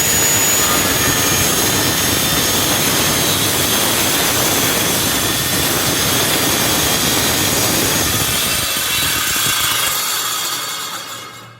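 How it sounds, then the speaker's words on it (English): A circular saw rips strips from a clamped board, a loud sustained whining roar running steadily for the whole cut before spinning down at the end, close up. "all I'm going to do is just guide my saw right along there, and you get perfect cutting strips"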